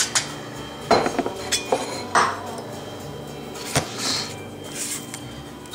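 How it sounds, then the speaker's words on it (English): Four ice cubes dropped into a glass for a cocktail, several separate clinks and knocks spread over a few seconds, close and clear with no talk. "I'm going to go with 4 ice cubes in that."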